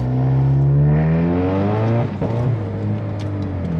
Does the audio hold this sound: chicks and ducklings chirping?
no